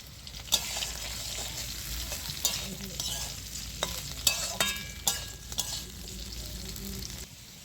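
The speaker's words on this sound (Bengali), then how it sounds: "তো আলুটা লাল করে ভাজা হয়ে গেছে" Potatoes fry in oil in a pan for a ridge gourd curry, giving a steady close sizzle broken by sharp scrapes and clacks of a stirring spatula at irregular intervals.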